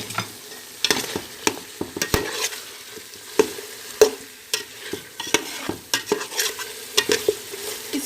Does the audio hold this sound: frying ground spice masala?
yes